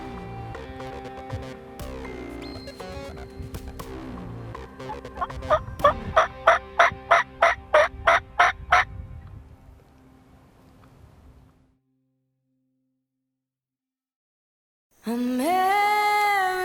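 Flock of wild Merriam's turkeys gobbling on an open ridge in South Dakota, a dense chorus of loud rattling gobbles close by, peaking in a rapid pulsing burst, then silence before a final loud call.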